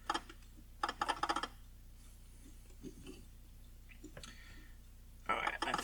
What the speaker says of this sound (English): I heard relays clicking in here.